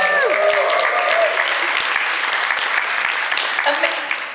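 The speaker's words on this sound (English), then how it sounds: "Can we give him a round of applause?" Applause at a Star Wars: The Rise of Skywalker press conference greets actor Anthony Daniels, a dense round of clapping from a crowd with voices and cheers rising over it at the start and briefly again near the end.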